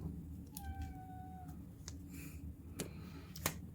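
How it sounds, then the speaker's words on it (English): A pet cat gives one clear meow indoors during leatherworking, fairly close and moderately loud, followed by a few sharp clicks and taps in a quiet room. "sorry about my cat."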